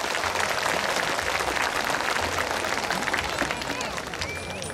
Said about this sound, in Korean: 다시 한번 여러분 큰 박수 부탁드릴까요?